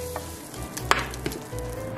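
Butter sizzles in a frying pan while rice is grilled into a flat yaki onigiri, with a soft crackling hiss and a few sharp clicks and taps from utensils.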